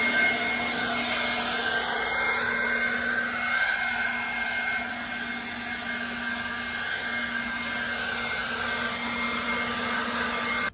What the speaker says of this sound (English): So this is a really great lightweight blower.